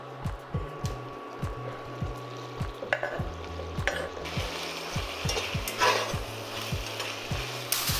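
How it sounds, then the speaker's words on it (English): Mushrooms sizzle in a hot pan for a French hunter's chicken sauce, with a spoon repeatedly scraping and stirring in a steady rhythm and occasional louder clatters. "Frying the mushrooms."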